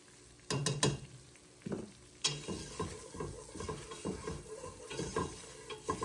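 Flour cooks in melted butter for a roux for baked mac and cheese, with quiet scraping and stirring strokes in the pan over a soft, low sizzle.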